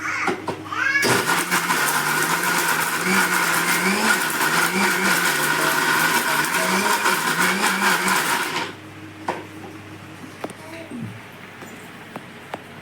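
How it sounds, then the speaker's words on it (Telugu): Mixer grinder running loud and steady while it crushes henna leaves with fenugreek powder, its whine wobbling slightly, then cutting off abruptly and leaving faint clatter and handling noises. "గోరింటాకు కూడా వేసేసి కొంచెం మెంతిపొడి కూడా వేసేసి మనం మళ్ళీ ఇంకొకసారి మిక్సీ పట్టేసుకోవచ్చు"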